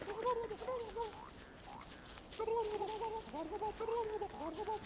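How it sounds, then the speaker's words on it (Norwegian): A turkey in the Don't Starve video game gobbles and clucks in quick warbling bursts, repeated several times over a quiet game background. "Dumme kalkun."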